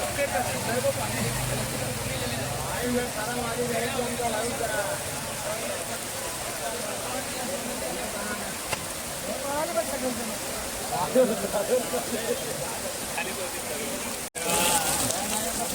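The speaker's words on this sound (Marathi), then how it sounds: "खूप जोरात पाऊस आलेला आहे" Dense, steady hiss of heavy rain pouring onto surfaces at a busy Dadar market, continuous throughout, with faint voices in the background.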